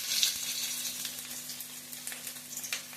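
Two onions sizzling in a small amount of hot coconut oil for Kerala-style chicken perattu, a steady close crackle and hiss with faint bubbling, no voices.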